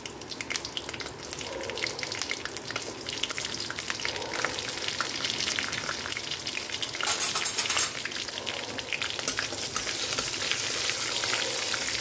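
Cumin seeds and dried red chillies fry in hot oil in a pan, making a continuous loud, crackling sizzle that rises briefly partway through.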